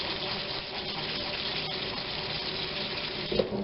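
Carrots rinsed under a running kitchen tap, a steady, close gush of water splashing throughout with no pause.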